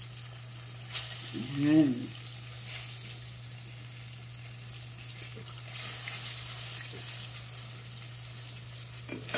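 Pompano fish frying in hot oil, a steady loud sizzle with crackling bursts throughout, and a brief voice heard near the start.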